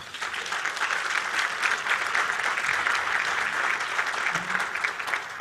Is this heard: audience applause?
yes